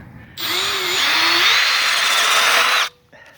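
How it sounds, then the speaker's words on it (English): A power drill bores a hole in a metal muffler for an O2 sensor on a Type 4 Beetle: one loud, steady whine lasting about two and a half seconds close by, then stopping abruptly. "I gotta make the hole for the O2 sensor"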